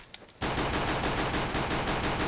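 A Glock pistol fires in CS:GO in a rapid, continuous burst of sharp, evenly spaced shots after a brief quiet start, loud and close with no voices over it.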